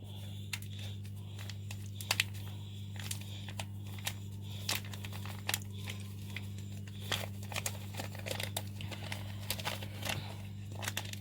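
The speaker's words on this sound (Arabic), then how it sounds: "ومعايا هنا كيس كيك شيف، هحطه وانخله" A plastic bag of cake mix crinkles and crackles as it is opened for sifting in a home kitchen, in faint scattered bursts over a steady low hum.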